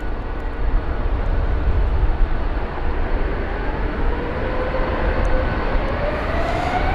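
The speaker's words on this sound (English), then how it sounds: "And there it goes, the A350-900, wasting absolutely no time" A Finnair Airbus A350-900 takes off from London Heathrow, a steady, loud jet roar holding level throughout with a slowly rising engine whine, no voices.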